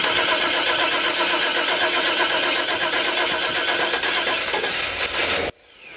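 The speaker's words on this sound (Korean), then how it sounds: "여기다 한번 뿌리면서 시동을 한번 걸어볼게요" A 1995 Chevrolet van engine, sprayed with parts cleaner, cranks with a loud, rapid, churning starter whir for over five seconds, then cuts off abruptly into near silence without catching.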